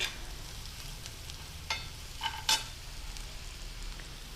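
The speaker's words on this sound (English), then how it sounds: "I am adding the ginger garlic paste." Ginger garlic paste dropped into sautéing onions for a mutton liver dry fry, heard as a low, even sizzle with a few spoon scrapes and a sharper clink partway through, quiet and close, with no talking.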